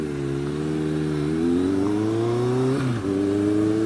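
A Kawasaki ZRX1100 motorcycle cruising through Atlanta city streets, its engine droning loud and close with a pitch that climbs steadily, then briefly dips as if shifting gear near the end.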